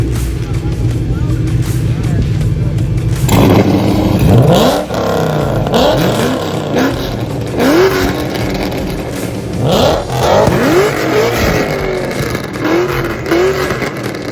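Several restomod car engines rev hard one after another, loud and close, with rising roars and rumbling idle between blips, and some voices underneath.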